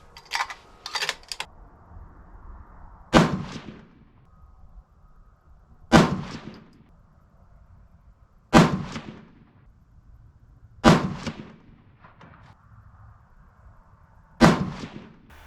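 Five loud 6.5 PRC rifle shots from a Seekins Precision Havak loaded with 55.5 grains of Reloader 25, sharp cracks spaced a few seconds apart with quieter handling clicks between.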